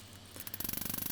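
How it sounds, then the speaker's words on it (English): A cross peen hammer striking steel rose petals to texture them, a fast even run of light metallic taps that starts partway in and repeats about a dozen times, close and fairly quiet. "I'm using a cross peen hammer here and basically just"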